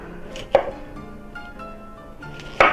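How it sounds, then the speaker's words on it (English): A knife slices through a cauliflower head, cutting it in half on a board: two sharp chopping knocks, one early and one near the end, with quieter handling noise between them and no talk. "So when you're cutting this little thing up, like these big ones, like this, I'll just cut in half."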